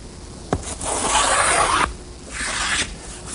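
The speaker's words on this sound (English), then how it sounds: "I'm just going to use my block plane to thin it down at a slight taper" A block plane tapers a pantry table part in two long rasping strokes, each starting with a sharp knock and fading out, close up.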